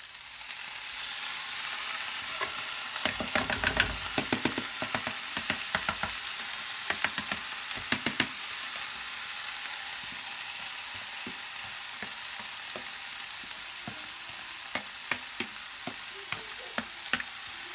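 Cooked rice pilaf tipped into a hot pan and stirred, giving a steady close sizzle with bursts of scraping and clinking from the spoon, busiest early on and returning in short spurts later.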